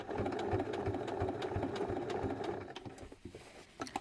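A sewing machine runs a steady stitching seam along a striped shirt being shortened, its continuous mechanical whir holding through most of the stretch before easing into a few irregular bursts near the end.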